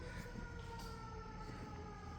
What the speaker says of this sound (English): Now there's sirens happening behind me.